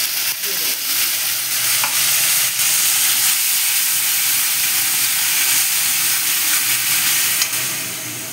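Ginger, tomato and green chilli paste sizzles loudly and steadily in a hot pan of oil while cooking a hilsa fish and yam curry, a continuous close frying hiss with light stirring and no talk.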